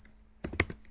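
A few quick keystrokes on a computer keyboard while a C++ console program runs, three or four soft close clicks bunched together after a quiet start, with no voices.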